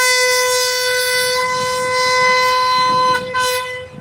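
Train no. 171 pulls out of Hua Lamphong station on its final run, sounding a loud, sustained horn chord close by. The blast cuts off near the end, leaving rumbling rail noise.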